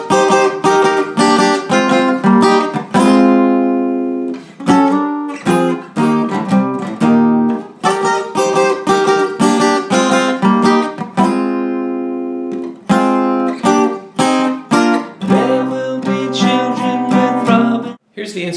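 A guitar plays the instrumental section of a song, ringing strummed chords mixed with quick picked figures, loud and close, with a couple of brief pauses and no voices.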